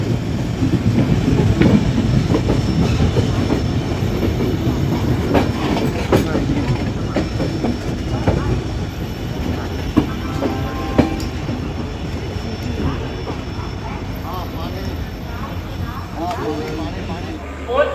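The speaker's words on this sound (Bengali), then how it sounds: "ফাইনালি আমাদের ট্রেনটি মালদা টাউন রেলওয়ে স্টেশনে ঢুকলো" The Darjeeling Mail train pulls into Malda Town railway station with a loud, steady rumble and occasional metallic clacks and squeals, while a busy platform crowd murmurs throughout.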